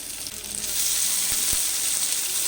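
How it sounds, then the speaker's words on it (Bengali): Tomatoes sizzle steadily in a hot pan with fried onions, a bright continuous hiss with a couple of soft stirring taps. "টমেটো দিয়ে দুই থেকে তিন মিনিট মতো ভেজে নিলাম"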